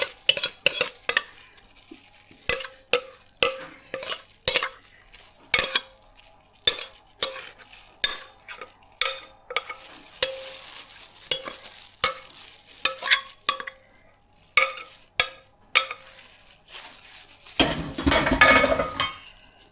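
Cassava cake mixture scraped and spooned into a baking pan, with repeated clinks and taps of a utensil against the bowl and pan, a steady irregular rhythm up close, ending in a louder scraping rush.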